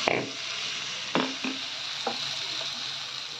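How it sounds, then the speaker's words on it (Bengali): Prawns fry in a covered pan with a constant close sizzle, broken by a few sharp stirring knocks and clatters against the pan. "আর ঢাকা দিয়ে ভাজছি"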